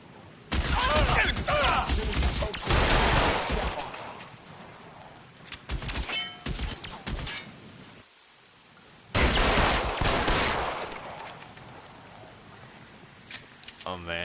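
Gunfire in the video game LA Noire comes in loud, rapid bursts of shots with a brief lull between two heavy volleys and scattered single shots toward the end. A voice talks over part of it.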